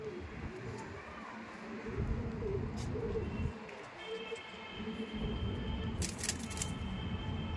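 A pigeon coos softly several times, moderately close, over a low continuous rumble, with a brief high chirp near the end.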